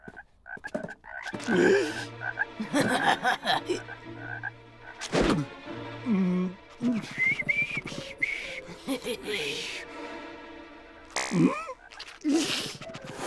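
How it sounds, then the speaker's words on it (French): Cartoon frogs croaking in a classroom dissection scene, a series of loud, close, warbling croaks and whistle-like calls repeating irregularly, with brief gaps between bursts. "Jimmy, tu choisis une grenouille pour la dissection?"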